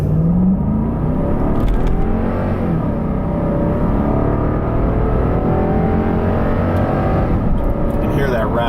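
A 2016 Lexus LX 570 SUV's 5.7-liter V8 revs hard under acceleration, a raspy roar climbing in pitch, loud and continuous, with a voice faintly underneath.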